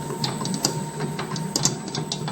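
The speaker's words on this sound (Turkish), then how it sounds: "Biraz daha güçlü kuvvetli bir makine." A 10-litre industrial dough kneading machine running, a steady mechanical whir with rhythmic clicking and rattling gears, close and continuous.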